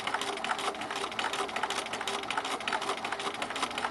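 A sewing machine runs steadily, stitching fabric fed through without pins at an even stitch length, a continuous close whirring hum with rapid needle chatter throughout and no talking.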